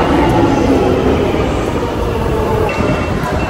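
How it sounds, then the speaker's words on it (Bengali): A London Underground train pulls into St John's Wood station with a loud, close rumble of rolling rail cars and a faint high wheel squeal near the end, no talking. "এই ট্রেনটা কিন্তু সমস্ত ইম্পর্টেন্ট টুরিস্ট পয়েন্টগুলোর কাছ দিয়ে এলো"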